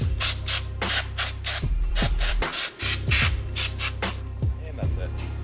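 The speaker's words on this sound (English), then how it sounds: "I'm going to grab my air pistol" A handheld air pistol blasts compressed air along the side of a 4.0-litre Audi Q7 3.0T TFSI engine in a series of sharp, hissing bursts with a low steady hum underneath and brief squeaky clicks between them.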